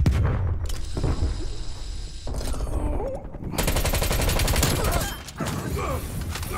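Gunfire in Call of Duty Black Ops Cold War during a Hardpoint match: loud, dense bursts of rapid automatic fire with booming impacts run almost without a break through the whole stretch.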